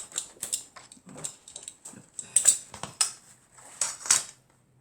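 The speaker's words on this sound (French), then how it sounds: "Donc je vais couper avec mon cutter." A utility knife slices away excess paper while a wedding album is being assembled, giving short scraping cuts and light clicks that come in uneven bursts, close and fairly quiet, with no talk.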